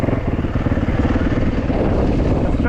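An uncorked Yamaha WR450F dirt bike engine runs close and loud, its exhaust giving a rapid throbbing pulse that builds as the revs climb over about three seconds.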